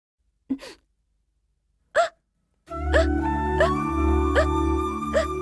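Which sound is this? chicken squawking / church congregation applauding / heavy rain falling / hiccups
hiccups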